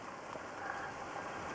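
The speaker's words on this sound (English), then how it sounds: "it's raining so heavily now" Heavy rain pours down steadily outdoors, a dense, even hiss of drops hitting surfaces with no breaks and no voices.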